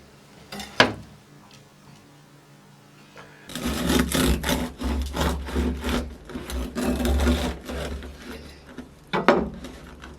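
Homemade bread being cut by hand, with a steady rasping, sawing scrape of the knife through the crust lasting several seconds, close and fairly loud, bracketed by a few sharp knocks before and after.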